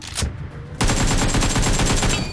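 Automatic gunfire in PUBG Mobile: a sharp opening shot, then a dense, loud rapid burst of rounds firing continuously to the end.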